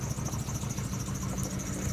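A 2000 Dodge Neon engine idles evenly at close range after a PCV replacement, a steady low hum with a smooth, regular pulse and no revving.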